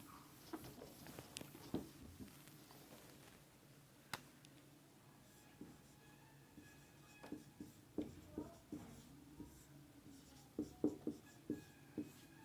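Chalk or marker writing on a board during a physics class lecture, a quiet run of short taps, scratches and strokes in an irregular rhythm, close by and without talk.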